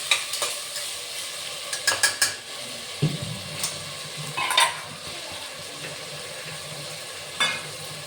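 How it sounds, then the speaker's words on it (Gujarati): Chopped onion and potato frying in a pan over high gas flame, with a soft continuous sizzle and several scraping clinks of a spoon stirring against the pan, no talk. "ગેસને ઘડીક વાર ફાસ્ટ રાખીશું જેથી કરીને આપણી ડુંગળી કકડાઈ જાય"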